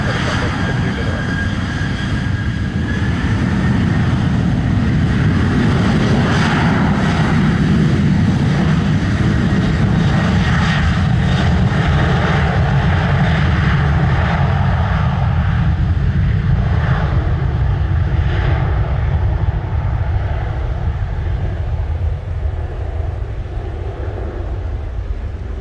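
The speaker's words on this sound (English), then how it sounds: "Clear for takeoff, runway 7 to the north." An airliner takes off from runway 07 at Montego Bay, Jamaica, its engines giving a loud, continuous roar that holds steady and then slowly fades as it climbs away.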